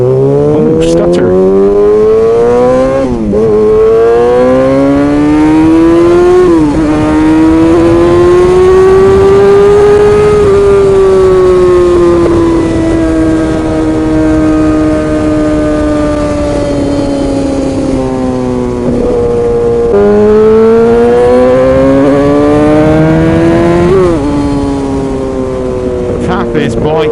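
A BMW scrambler motorcycle engine revs loudly and close by. The pitch climbs and falls in repeated sweeps, broken by sudden stuttering drops, and voices can be heard under it.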